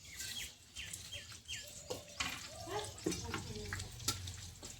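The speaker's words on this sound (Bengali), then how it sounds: "ফোড়নে দিয়ে দেবো আমি তেজপাতা, গোটা জিরে, গোটা গরম মশলা, এলাচ, লবঙ্গ, দারচিনি।" Bay leaf, cumin, cardamom, cloves and cinnamon fry in ghee for a prawn pulao, giving off a faint, crackling sizzle with quick chirps from nearby poultry.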